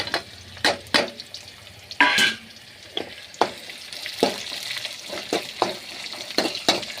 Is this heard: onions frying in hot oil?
yes